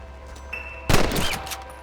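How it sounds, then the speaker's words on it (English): A shooting contest in the Western game Red Dead Redemption, with one sudden loud gunshot burst and its rough decaying tail cutting through a quiet tonal background. "I bet you can't beat Ira Shelton in shooting."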